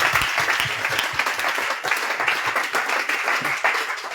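A church congregation applauds in praise during a French-language sermon, a dense steady wash of many hands clapping that holds loud and close for the whole stretch, with no voices standing out.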